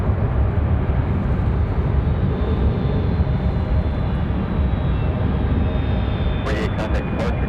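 Cessna Citation XLS business jet at Raleigh-Durham airport, a steady broadband engine roar holding for several seconds with a faint high whine, followed by brief clicky bursts near the end.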